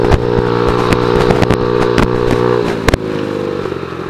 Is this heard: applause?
no